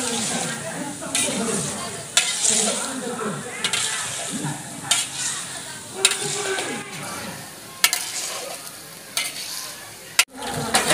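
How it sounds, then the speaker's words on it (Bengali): Kalojam sweet dough balls fry in oil in a village kitchen, with a continuous soft sizzle. The frying is broken by repeated stirring scrapes and clinks at a steady pace, and it stays fairly close throughout. "এবার প্রায় 20 মিনিটের ঊর্ধ্বে এটা ভাজা হয়ে গেছে।"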